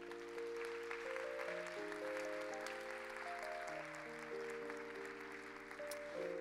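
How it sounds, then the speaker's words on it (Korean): A church youth congregation applauds in a steady, moderate patter of many hands while sustained organ or keyboard chords play under it. "이분들 좀 따뜻한 박수로 좀 축복합시다"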